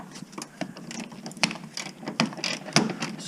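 A ratchet works loose the strut bolts on a 2005–2012 third-generation Toyota RAV4, giving a close, rapid series of irregular metallic clicks and ratcheting bursts with no voices.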